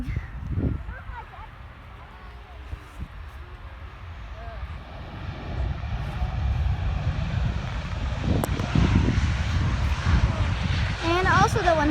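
A KLM Boeing 737 airliner comes in to land at Rotterdam, its engine roar swelling steadily from a distant hum to a louder rushing drone while people talk over it.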